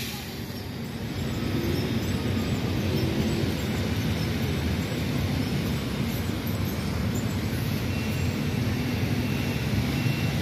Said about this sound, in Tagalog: maliit na train.